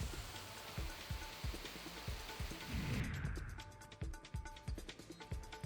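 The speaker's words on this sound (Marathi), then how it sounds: "आज पहाटेपासून वैभववाडी, कणकवली, कुडाळ तालुक्याच्या काही भागांमध्ये पावसाची रिपरिप पाहायला मिळतेय" Light drizzle falls over parts of Vaibhavwadi, Kankavli and Kudal talukas with a steady, soft patter of drops. The pattering shifts into more distinct, rhythmic drips partway through.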